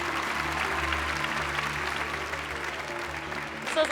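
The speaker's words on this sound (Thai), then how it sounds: "มาขอเสียงปรบมือทั้งคู่หน่อยครับ" Studio audience on a Thai game show claps for two contestants, a steady, fairly even burst of applause heard without any talk.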